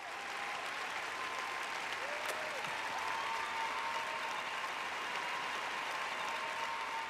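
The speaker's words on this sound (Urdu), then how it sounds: "مہربانی سے آپ ان کے لیے تالیاں بجائیں" A church congregation applauds together, a steady, even wash of clapping from many hands heard from some distance at moderate volume, sustained without pause.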